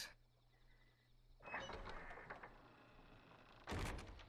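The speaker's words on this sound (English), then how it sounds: "who is pulling the door closed?" Door being pulled closed: a low mechanical hum gives way to a scraping, rattling slide and a final firm thud near the end, moderately loud and close.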